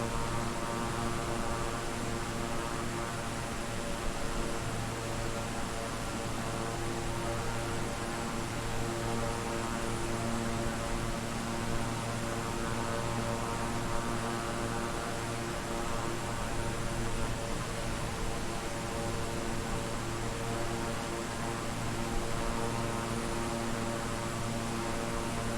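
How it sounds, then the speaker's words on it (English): A steady, loud jet engine drone from an aircraft in the Microsoft Flight Simulator video game, holding an even broadband roar with a low, constant hum throughout and no voices. "The jet engines are very noisy."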